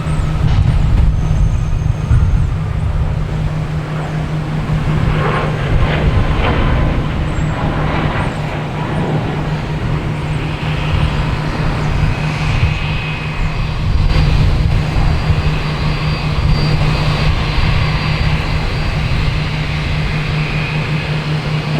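A United Airlines jet in a special livery, heard at Boston Logan Airport in the evening: a steady, loud engine roar holds for the whole stretch with a low sustained hum beneath and no talking.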